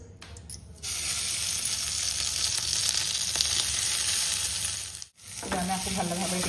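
Mango pieces frying in ghee in a pan for mango barfi, a steady close sizzle running almost throughout, with a brief dip near the end before the frying noise resumes; no talking.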